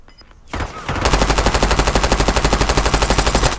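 Rapid automatic gunfire in a shooter video game rattles off in a fast, even stream of loud, close shots after a brief quieter lead-in, with no talk over it.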